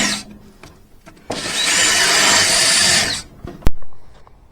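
A power drill bores a hole into a wooden trailer tongue beam made of 2x8 or 2x10 lumber, one loud close burst of grinding whir for about two seconds, then a sharp knock and quiet.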